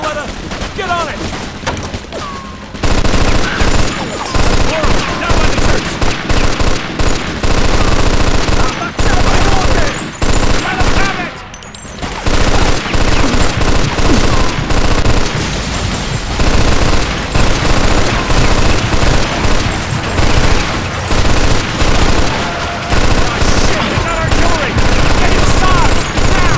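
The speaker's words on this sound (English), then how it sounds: "Get on that machine gun!" Loud, sustained machine gun fire from the Mafia 2 first mission, rattling in long continuous bursts with heavy booms and only brief pauses, with shouting voices mixed in.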